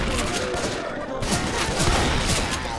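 Rapid automatic gunfire from the Left 4 Dead 2 video game, a loud continuous fusillade of overlapping shots with a brief dip near the middle, a voice faintly underneath.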